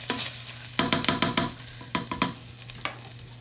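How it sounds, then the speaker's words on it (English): Ground beef crumbles browning in a dry skillet with no oil, a spatula scraping and stirring in quick bursts over a steady low sizzle, close and moderately loud with no talking. "I like to get those crumbles started without the oil first, just to get them browned a little bit better"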